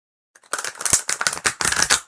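Stiff, thick cardstock tarot cards being shuffled by hand: a near, crisp run of rapid riffling flutters and slaps in several bursts, with no talking.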